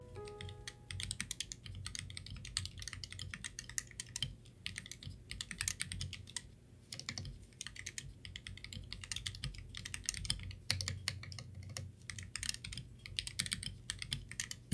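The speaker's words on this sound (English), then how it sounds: "put your pretty little keycaps on and listen to a pretty little sound test" Steady clacky typing on an upgraded GK64/GK61 mechanical keyboard, rapid key presses in quick bursts with brief pauses, close and fairly quiet, no voices.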